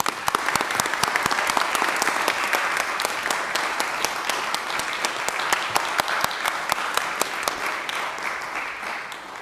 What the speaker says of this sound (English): please join me in a round of applause for these people